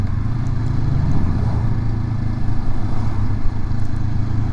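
Low rumbling motorcycle engines, mostly motocross traffic, pass steadily on a road near a motocross racetrack, a continuous droning roar with no talking.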